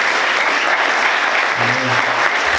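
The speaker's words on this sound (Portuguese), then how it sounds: "Vamos aplaudir Jesus bem forte." Church congregation applauding loudly during a worship service, a dense, sustained roar of clapping from many people, with a voice briefly audible underneath near the end.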